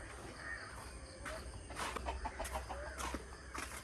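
Chickens cluck in short, irregular bursts nearby, over a steady low background hum, with no talking.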